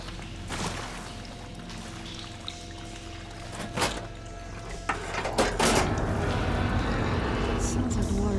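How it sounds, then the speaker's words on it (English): Machinery switching water flow in the Horizon Forbidden West video game, with clanks and thuds, then a rising steady rush of flowing water, under speech. "Sounds like the water's switched."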